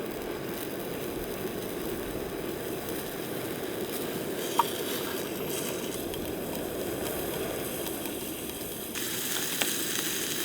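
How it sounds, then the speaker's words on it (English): Steady sizzling hiss of prosciutto-wrapped asparagus frying in a hot pan, constant and close, with a couple of faint clicks and no talking. "Hear it sizzle like a professional."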